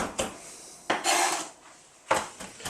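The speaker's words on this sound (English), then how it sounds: "I'm going to bring into it some the fresh thyme, mix that right into my garlic" Fresh thyme being mixed into garlic with a utensil in a bowl for a meat rub, three distinct scraping and clinking strokes against the dish with quiet gaps between them, close and clear, no talking.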